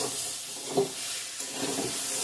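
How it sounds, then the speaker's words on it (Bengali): Chickpeas frying with spices in a pan for ghugni, giving a steady close sizzle with a couple of brief stirring scrapes and no voices. "ছোলাটাও ভেজে নিচ্ছি ভালো করে।"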